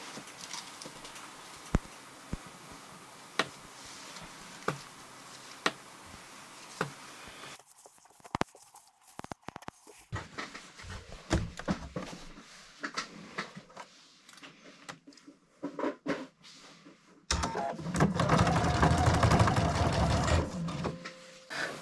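A sewing machine stitches a jacket's button placket seam, running in steady whirring bursts with brief pauses and sharp clicks, then a louder, fuller run near the end.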